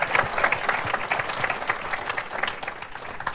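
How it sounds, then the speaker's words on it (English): Warm round of applause from an audience at a jobs and economy town hall with Governor Rick Snyder, a dense crowd of hands clapping steadily and fairly close for a few seconds. "Can we give a good round of applause?"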